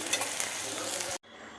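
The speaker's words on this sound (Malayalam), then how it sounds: "മീനെ ഞാൻ വറുത്തു" Kiryan fish fries in a pan over a low flame, a steady close broadband sizzle that runs without talk and then cuts off abruptly near the end.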